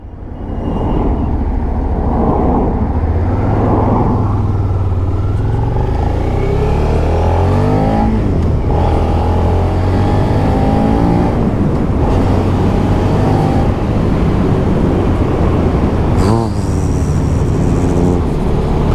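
A Suzuki SV650 motorcycle engine on a test ride: a loud, steady, close drone that rises and falls in pitch as the throttle changes, with no voices.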